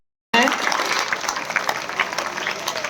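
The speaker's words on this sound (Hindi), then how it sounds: "तालियों में कमी नहीं आनी चाहिए" Applause from an audience at a government school award ceremony honouring students, a dense burst of clapping that starts abruptly and continues steadily at close range with a faint murmur of voices.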